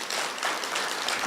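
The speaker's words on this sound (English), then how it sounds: "a round of applause for Ken" A short burst of audience applause at a cooperative investment society gathering, continuous, fairly close, and steady throughout.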